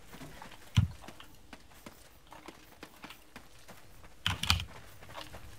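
A few quick bursts of keystrokes on a computer keyboard, typing a name, sound close by against a quiet, faintly noisy background.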